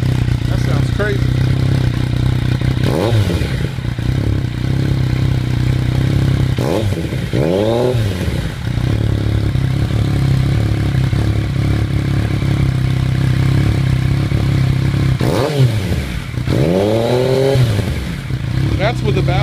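A Yamaha FZ-09 motorcycle with an M-4 exhaust, baffle and dB killer still fitted, idles loudly and steadily. Three sharp revs rise and fall in pitch, with voices heard faintly at times.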